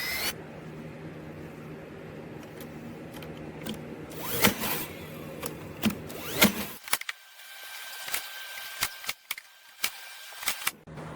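A power drill bores a hole into a wooden panel for a dog puzzle, with whirring motor bursts and sharp bangs and clatter of handling the wood, the drill whine trailing off into quieter workshop noises.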